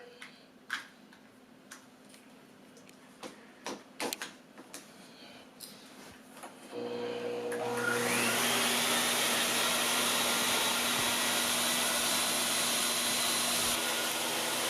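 Ritello vacuum cleaner switching on after quiet clicks and handling sounds, then a loud steady whining motor roar with a high airflow hiss that runs on evenly to the end.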